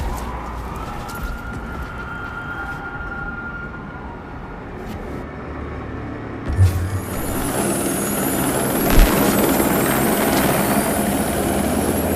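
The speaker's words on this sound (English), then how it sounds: "I do believe that is a helicopter." A helicopter's rotor thrum and engine roar in the video game Watch Dogs 2 build up and grow louder, with a hiss and a sudden thump partway through.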